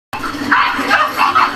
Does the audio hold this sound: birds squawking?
no